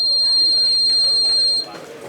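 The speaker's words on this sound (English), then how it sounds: "But when we remove it, the alarm is coming, right?" A power fault detector alarm gives a steady high electronic buzz that cuts off abruptly, leaving a person talking nearby.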